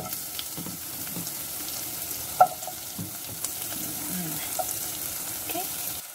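Garlic and onion frying in a pan for kimchi jjigae, a soft steady sizzle with a few light stirring scrapes and one sharp clink, close by and fairly quiet.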